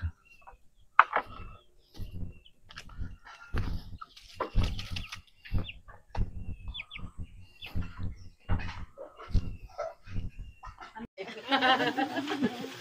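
Native chickens on a farm cluck and chatter close by in short repeated bursts, mixed with people talking, and a rush of noise near the end.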